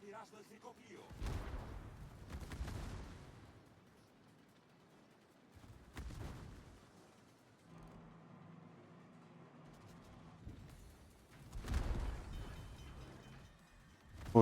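Several heavy booming blasts of naval gunfire from the rear turrets of the battleship Montana in World of Warships, spaced apart with low rumbling tails, alongside a steady mechanical hum between shots.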